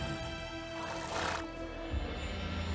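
A horse in The Witcher 3: Wild Hunt video game whinnies in a rising, breathy burst over steady droning background noise, with no talking.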